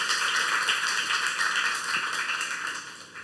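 A church congregation claps steadily during a youth-service sermon, a dense even wash of many hands that keeps going at a near-constant level for the whole stretch.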